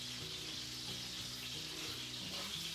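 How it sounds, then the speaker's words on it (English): Three cardamom pods stir-fried in a pan for halwa, giving a steady, even sizzle with faint scraping and stirring underneath, continuous and close throughout. "So I'm adding just 3 cardamom and try to stir fry a bit,"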